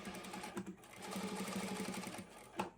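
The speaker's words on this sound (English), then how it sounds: "I'm going to come to the machine and I'm going to begin to top stitch along that edge" A sewing machine top stitching the binding along a quilt edge, running in a fast steady mechanical chatter that pauses briefly and restarts, close and moderately quiet.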